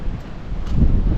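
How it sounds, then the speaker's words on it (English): Gusty wind buffets the microphone outdoors beside a VW Crafter van being converted, a low rumbling roar that swells toward the end of the brief moment. "Oof, it's getting windy"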